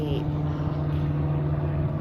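A light aircraft flying over France, heard from the cabin as a steady droning engine and propeller hum with a strong low tone that runs unbroken throughout.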